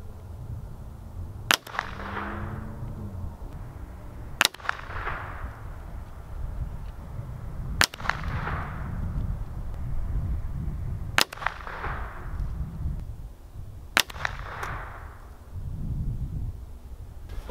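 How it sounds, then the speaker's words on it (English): A .22 rifle fired at targets at short and longer distances, five sharp single cracks spaced a few seconds apart, each trailing a brief outdoor echo over quiet background noise, with no talking. "we'll take some shots at the different distances, the shorter and longer, and see where we end up"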